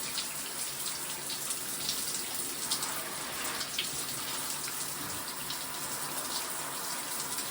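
A pet bird bathing as water splashes and runs over its waterproof feathers, a continuous close hiss of falling water with soft splashy flutters throughout.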